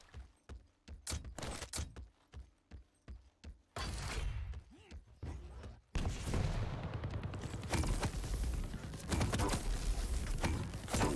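Rapid bursts of video game gunfire crack in quick succession, first as separate sharp shots, then as dense, continuous automatic fire that grows louder and busier.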